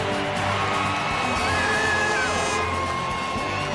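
A stadium crowd at a Denver Broncos football game roars steadily after an interception, a dense, loud wall of cheering and whoops with a few piercing shouts rising above it.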